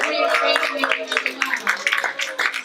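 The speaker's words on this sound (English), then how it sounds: "Should we give her a big clap?" A few people at a farm give a girl a small round of hand claps, light and scattered, mixed with overlapping voices and chatter close by.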